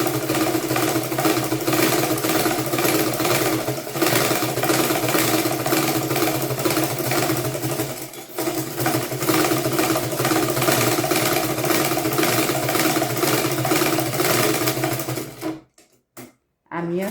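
A black domestic sewing machine runs steadily with a fast, even mechanical chatter while stitching in reverse, loud and close, before stopping abruptly near the end; talk is heard over the motor.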